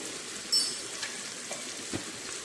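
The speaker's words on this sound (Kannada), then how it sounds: "ಇದು ಹಸಿ ವಾಸನೆ ಹೋಗೋ ತನಕ ಚೆನ್ನಾಗಿ ಹುರ್ಕೊಳ್ಳೋಣ" Ginger garlic paste frying in a pan for soya chunks pulao, giving a steady close sizzle throughout with a brief stir or clink near the start.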